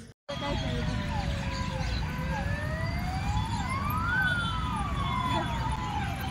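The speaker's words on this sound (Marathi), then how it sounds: "पोलीस गाडी आली का?" A police car siren wails and rises and falls in repeated sweeps on a road near India Gate in Delhi, fairly close, over steady traffic rumble.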